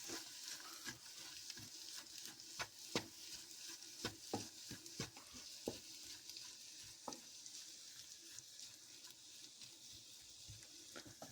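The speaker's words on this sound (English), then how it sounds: "now we'll add the beef. Mix that in there." Beef being stirred into a sizzling homemade beef chili paste, a steady frying hiss broken by repeated scraping, clacking stir strokes, close and fairly quiet, with no talking.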